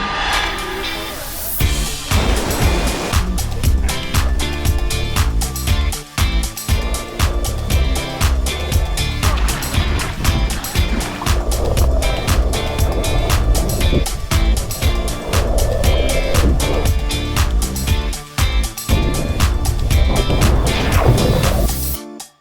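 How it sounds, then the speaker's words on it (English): A catamaran under way on the sea off Ajaccio, France, with a steady engine rumble and rushing water, punctuated by repeated sharp knocks and thumps throughout, near and fairly loud. "the catamaran is pulling back into the dock"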